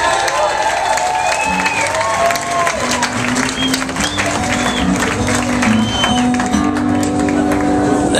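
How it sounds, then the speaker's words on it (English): A concert crowd applauding and cheering for a band, dense clapping with whoops and shouts rising over it, loud and sustained, with some voices talking through the noise. "So another round of applause."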